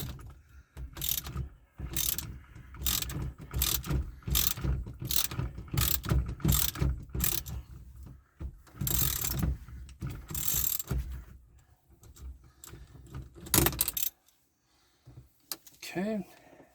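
Ratchet wrench loosening a 13/16 nut on a Jeep Grand Wagoneer tilt steering column, clicking in rapid repeated bursts up close, with pauses between strokes and brief talk near the end.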